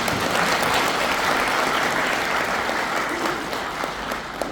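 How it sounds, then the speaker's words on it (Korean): Steady, dense audience applause fills a lecture hall at a hometown association's humanities talk, a sustained wash of many hands clapping at even loudness for over four seconds before easing slightly at the end. "여러분들 모두를 위해서 박수 한번 자주 해주십시오"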